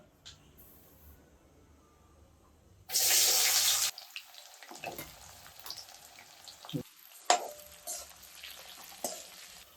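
Shallots dropped into hot sesame oil after mustard seeds have popped, giving a loud burst of hiss that settles into a steady crackling sizzle with scattered pops and scraping from stirring.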